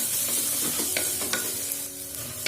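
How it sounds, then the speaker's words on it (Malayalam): Ginger-garlic paste sautéing in a pan, a steady close sizzle of frying with a few sharp scrapes and clicks of a spoon stirring against the metal, no talking. "ഇഞ്ചിയും വെളുത്തുള്ളിയും എല്ലാം പച്ചമണം പോകുന്നത് വരെ ഇതൊന്ന് വഴറ്റി കൊടുക്കണം."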